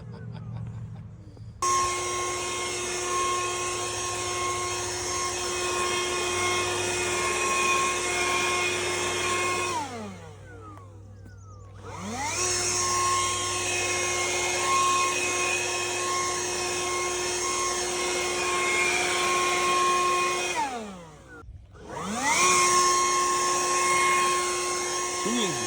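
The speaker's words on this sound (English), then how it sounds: "So let's get to it with the blower." Makita 36V XBU02 (DUB362) electric leaf blower whines loudly in long steady runs, cutting off twice with brief drops as the motor spins down and restarts, clearing a neglected outdoor area.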